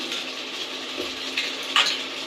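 Potatoes tossed into a pan of hot spices with chopped tomato, frying with a soft steady sizzle and a couple of sharp stirring clinks near the end.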